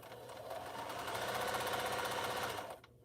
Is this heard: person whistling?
no